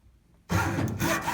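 A hand saw blade drawn back through wood while trimming a small chip at a tenon, one close, sudden rasping stroke starting after a brief silence and continuing steadily.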